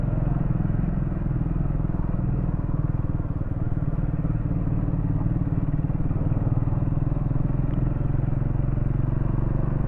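A Triumph Scrambler motorcycle engine runs at low revs on the road, a steady, close rumbling exhaust with slight surging and no talking.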